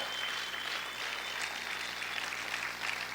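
Church congregation applauding during a sermon, a steady continuous wash of many hands clapping filling the room at moderate level, with no pauses.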